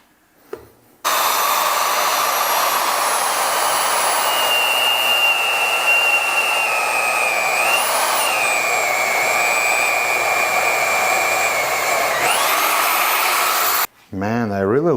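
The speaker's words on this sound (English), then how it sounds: "we're gonna clamp this angle iron vertically and see what this drill can say" A loud, steady motor whine from a Vevor magnetic drill runs for about thirteen seconds with pitch wavering slightly as it bores into vertically clamped angle iron, then cuts off abruptly.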